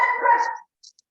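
A single short dog bark close by, followed by a couple of faint clicks in near silence.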